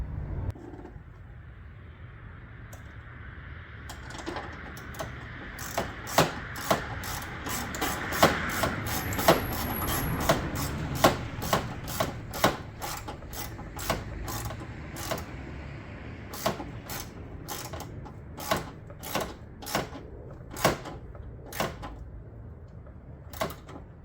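Ratchet tightening the negative battery cable bolt on a 2001-2004 Nissan Pathfinder, a long run of sharp, evenly spaced clicks over a low background hum, growing steadier and more distinct toward the end.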